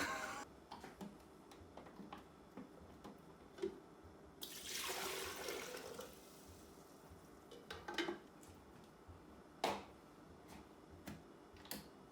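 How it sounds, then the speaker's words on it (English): An espresso machine pulls water through from its filled tank, giving a hissing, gushing burst of about two seconds amid quiet clicks and faint kitchen clatter. "fill the tank, pull some water through to get it circulating"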